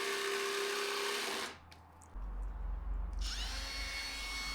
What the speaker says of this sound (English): So I'm just going in again with the jigsaw.